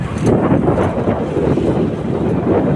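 Wind-driven rain outdoors on farmland, a loud continuous rushing roar with heavy gusting buffeting close to the microphone, no voices.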